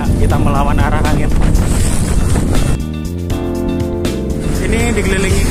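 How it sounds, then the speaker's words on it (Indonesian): Strong headwind roars into the microphone while cycling from Zhunan toward Hsinchu, a loud continuous buffeting rumble that fills the whole clip, with a rider's voice mixed in. "Anginnya masih kencang, gila, kita melawan arah angin."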